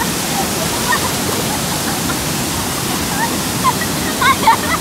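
Hidden waterfall at Nijampur near Mangaon, a steady broadband rush of falling water filling the scene at moderate loudness, with a few brief louder splashes near the end.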